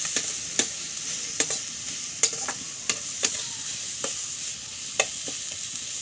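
A spiced mixture for egg and potato cutlets fries in a pan under a soft, steady sizzle, punctuated by about a dozen sharp taps and scrapes from a stirring spoon.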